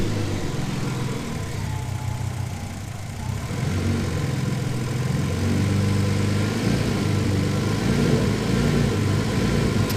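A twin-turbo Ford Capri engine idles unevenly, its steady low drone rising and falling as the revs hunt up and down over about ten seconds. The engine sounds close and loud, with no voices.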